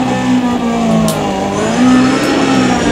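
A Toyota drift car in Need for Speed ProStreet, driven in first-person view, revs in a loud, steady engine drone that swells and eases over three seconds, with no voices.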